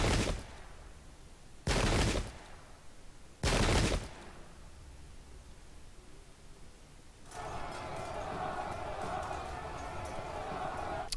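Several loud musket volleys crack out in bursts in the Pike and Shot video game, three sharp broadband blasts spaced about two seconds apart, followed by a busy clatter of battle noise.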